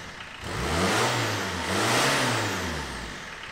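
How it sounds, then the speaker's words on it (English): A van engine under restoration, with its exhaust being cut and refitted, revs up twice close by, each rise swelling and falling back with a clear mid-pitched drone. "Will it rev up now, then?"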